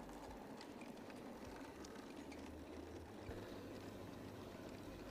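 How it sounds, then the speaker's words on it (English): A Class Q tender locomotive on a model railway layout hauls heavy trains over a steep southern branch, producing a steady, faint rumbling run with low mechanical hum throughout. "This rather handsome-looking tender locomotive is a Class Q."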